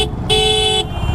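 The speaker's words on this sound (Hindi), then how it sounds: "Oh my God traffic, oh uncle जी रुक जाओ, थोड़ा निकल जाने दो हमें।" Highway road traffic around a Yamaha R15 M motorcycle, with a loud steady vehicle horn blaring for about half a second over constant close engine and wind rumble.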